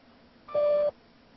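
A short electronic tone from a voicemail played back: one steady beep lasting about a third of a second, moderately loud, over faint background hiss and no talking.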